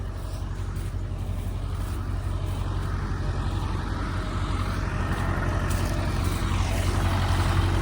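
A JCB backhoe loader's engine drones steadily at close range during earthmoving work, a heavy low rumble that grows slightly louder toward the end.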